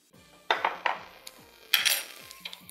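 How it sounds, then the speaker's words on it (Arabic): A spoon clinks against a metal pot while sugar goes into simmering tomato sauce, with several sharp metallic taps and scrapes at irregular intervals, close and fairly loud, over a low background hum. "احط معلقه سكر في الصلصه،"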